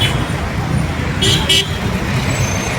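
Bangalore road traffic rumbles steadily while a vehicle horn gives two short, sharp toots close together, with someone talking over the street noise.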